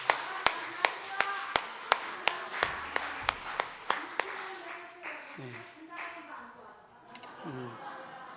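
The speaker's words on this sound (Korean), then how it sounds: "우리 이남희 근사님 박수 한번 쳐드립니다" Congregation at a Korean church praise service claps in unison for a singer, a crisp, evenly spaced run of a dozen sharp claps, followed by someone speaking.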